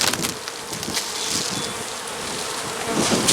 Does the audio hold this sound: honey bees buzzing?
yes